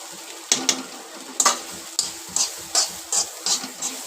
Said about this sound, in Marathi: याच्यामध्ये आता हे खोबरं परतून घ्यायचं आपल्याला